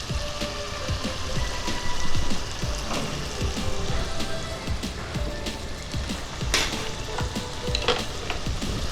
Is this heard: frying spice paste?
yes